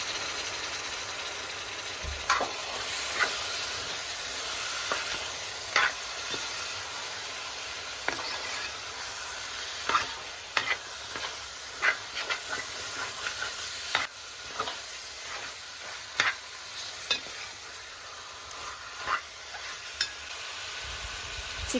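Chicken frying in a pan with masala and tomato, a steady close sizzle with repeated scraping stirs of a spoon at irregular intervals.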